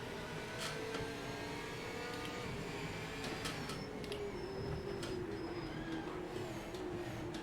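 A race car engine in the video game Project Motor Racing drones faintly and steadily on a late lap, its pitch climbing gradually under throttle, with no speech over it.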